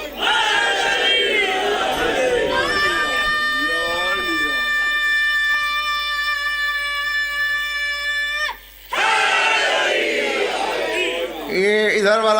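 A large crowd at a Rajab religious gathering in Qazi Chak, Gujrat, loudly chants religious slogans, with a long sustained shouted call in the middle, a brief pause, and then more rising chanting voices close by.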